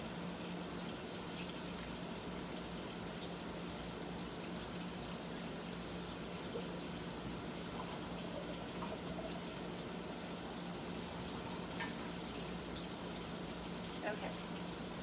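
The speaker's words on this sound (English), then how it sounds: "Now I'm going to fill this with just not tap water" Bottled water pours into a cooking pot for tomato sauce, a quiet, even wash of running liquid that continues unbroken, faint and close.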